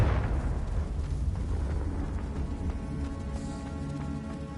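A Confringo fire spell explodes in Hogwarts Legacy, a heavy rumbling blast that starts loud and slowly fades under a low game background.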